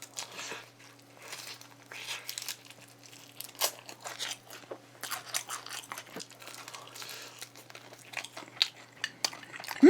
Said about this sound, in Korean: 양파를 최대한 많이 해가지고 아삭아삭한 식감을 좀 살려보도록 할까나